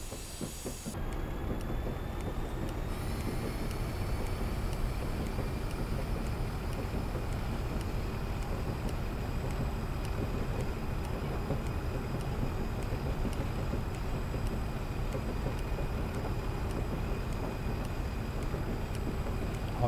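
A locomotive in the Train Simulator game on the West Highland Line drones with a steady, loud engine rumble and rail noise, unbroken for twenty seconds after a brief opening clatter, with no talking.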